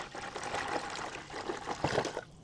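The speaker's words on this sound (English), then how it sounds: "Then we're gonna top it all off with 1 gallon of cold water." A gallon of cold water poured into a ham brine with cloves and a cinnamon stick, giving a continuous splashing gush for a couple of seconds, close and moderately quiet.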